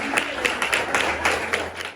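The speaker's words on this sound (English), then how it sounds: "So un applauso anche a voi." An audience claps at a small museum storytelling event, a dense stretch of applause with sharper individual claps. It holds steady for a couple of seconds and then fades.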